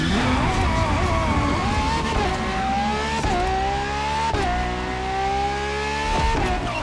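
Ferrari FXX-K supercar engine in The Crew Motorfest video game: a loud, steady high-pitched engine whine that holds near-constant revs with brief dips at gear shifts, close and continuous.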